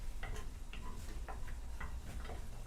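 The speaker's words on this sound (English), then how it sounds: "we're gonna melt the butter, Mm-hmm. and then we're gonna saute our onions" Onions sautéing in melted butter in a pan give a steady, quiet sizzle with soft stirring clicks and scrapes throughout, close by and without speech.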